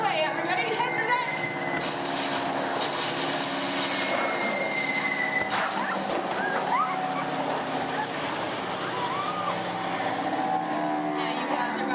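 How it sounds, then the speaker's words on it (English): Bomber planes approaching as a show effect on a Disney ride, a broad sustained roar of aircraft engines mixed with rushing water and surf-like wash, loud and continuous throughout. "You hear more enemy planes approaching. You point to the sky because you see bombers coming in from 12 o'clock."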